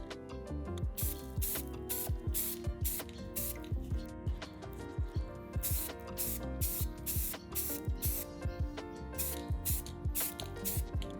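Black spray paint hisses from an aerosol can in steady rapid bursts, close and continuous, as it primes homemade tabletop wargame terrain.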